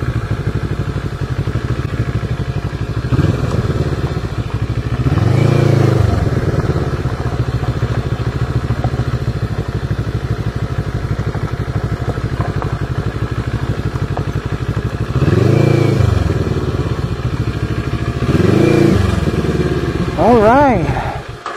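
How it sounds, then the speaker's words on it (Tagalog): A motorcycle engine drones steadily on a short group ride, swelling louder a few times as nearby bikes rev and pass, with wind rumble throughout. "Ah, yun ang motor."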